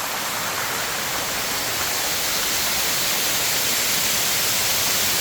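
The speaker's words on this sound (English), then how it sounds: "This is the waterfall, and it's really cool." Waterfall in Kanchanaburi, Thailand, roaring steadily and loudly up close, a dense unbroken rush of falling water with no pauses for the whole stretch.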